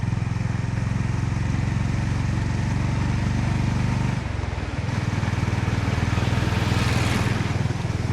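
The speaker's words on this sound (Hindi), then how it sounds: "अब पांचवा गियर लगाएंगे, देखते हैं 60 पे पांचवा गियर काम करता है या नहीं।" A Honda H'Ness CB 350 single-cylinder motorcycle cruises in fifth gear around 60, its steady low engine thrum loud and close with wind rush, dipping briefly during a gear change before resuming.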